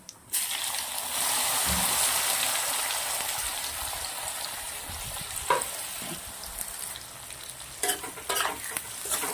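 Bitter gourd (karela) fries in peanut oil with cumin and asafoetida, making a loud, continuous sizzle close by, broken by a few sharp stirring clatters toward the end.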